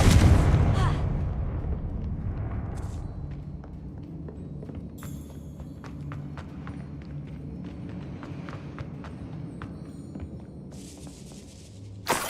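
Confringo blasting spell in Hogwarts Legacy: a loud explosive burst at the start fading into rumbling debris, followed by scattered small thuds and crackles, with another sharp burst at the end.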